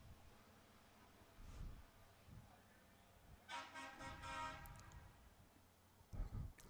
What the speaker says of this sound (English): Truck honking to everybody here.